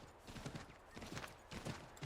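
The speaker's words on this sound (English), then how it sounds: "I'm only taking the horse because it's faster if I stay on the path" Horse hooves clip-clopping on a path in the video game Assassin's Creed III, a quick steady rhythm of soft thuds at moderate distance, faint and alone over a low ambient wash.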